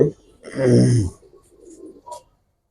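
A pigeon gives one low, throaty coo, followed by a few softer, fainter murmurs and a short final note, close by.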